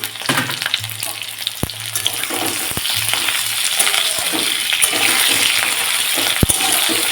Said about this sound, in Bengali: কপি আর আলুটা বেশ ভালো করে ভাজা ভাজা হয়ে গেছে